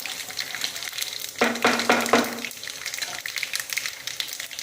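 Chana dal, urad dal and peanuts fry in hot oil with a steady crackling sizzle, and a few louder stirring scrapes break through midway.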